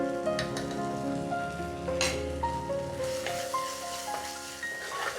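Tomatoes sauté in a pan with Kashmiri chilli powder added for a tomato curd curry, giving a steady, close sizzle and frying crackle with light stirring scrapes throughout.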